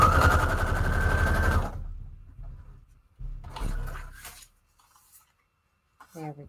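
A sewing machine runs a straight stitch on paper scraps in one steady, buzzing burst close up, followed by a shorter run and some handling noises.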